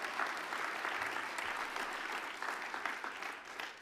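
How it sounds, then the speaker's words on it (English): Audience applause at an alumni awards ceremony, a steady round of clapping from a sizable crowd in a hall, sustained for several seconds and fairly distant. "So a big round of applause to the Alumni Association."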